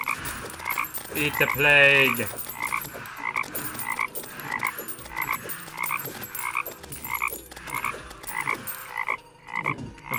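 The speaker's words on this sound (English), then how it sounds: "And now it's time for toads." Toads in the game Terraria croak in a steady repeating rhythm, layered over game music and effects, during a Pumpkin Moon and Frost Moon event in a modded summoner playthrough.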